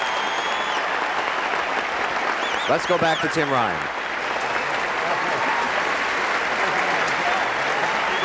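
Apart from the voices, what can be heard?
crowd applause at US Open tennis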